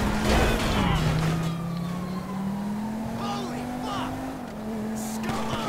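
Cars race in a high-speed chase in GTA 5 Online: a steady engine drone holds a rising and falling tone, with brief tire squeals, a siren-like whine and voices now and then over it.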